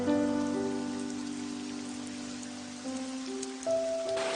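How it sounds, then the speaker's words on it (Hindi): Steady cartoon rain hisses continuously over sustained musical tones that shift in pitch partway through. The downpour stays even and moderately loud, with no voices. "लगता है ये बारिश अभी रुकेगी नहीं।"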